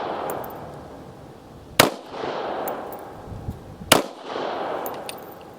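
Two sharp, loud shots from a Taurus 709 Slim pistol firing steel-case ammunition, spaced about two seconds apart, each followed by a brief ringing decay and outdoor ambience.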